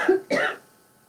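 One short, close throat-clearing cough, a quick double burst that fades into quiet.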